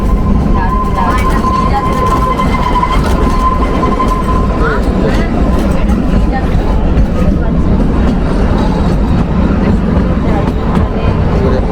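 The Kalka–Shimla toy train in Himachal Pradesh rumbles and clatters steadily along its tracks the whole time, with a thin whistle-like tone early on and faint voices underneath.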